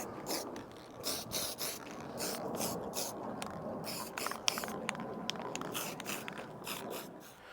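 A spray paint can shaken by hand while refinishing a part before mounting a solar panel, giving a steady rattling, scraping churn of the mixing ball that runs nonstop, fairly near and moderately loud.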